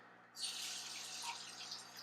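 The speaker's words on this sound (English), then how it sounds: "and that will start to add dechlorinated water" Dechlorinated water from a carbon block filter in a basement starts running into a fish tank, a steady close hiss of flowing water that begins suddenly after a quiet moment and continues evenly.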